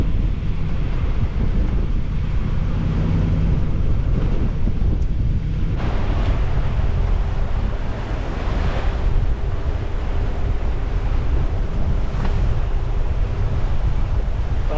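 Strong wind gusts of over 30 knots roar across the microphone of a sailboat heading out on the Sound of Jura at around 8 knots, with continuous rushing waves and water noise beneath, loud and unbroken throughout.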